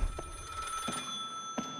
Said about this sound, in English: Is that the visitor's phone?